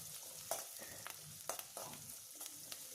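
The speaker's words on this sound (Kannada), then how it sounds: "ಸ್ವಲ್ಪ ಈರುಳ್ಳಿನ ಹಾಕಿ 2 ನಿಮಿಷ ಫ್ರೈ ಮಾಡ್ಕೋಬೇಕು" Onions, green chillies and curry leaves fry in a pan for a simple sappe saaru, a steady soft sizzle broken by regular scraping strokes of a spoon about once every half second.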